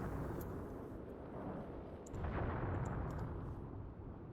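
Gunfire in the Graviteam Tactics wartime strategy game rolls on as a steady, distant, muffled battle rumble, with a few faint sharp cracks near the middle and no voices.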